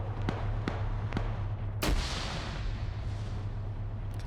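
A grenade detonates in an esports shooter match, one loud broadband blast that blows out an entire wall, following a few sharp gunshots and trailing into a long rumbling debris decay under steady game noise.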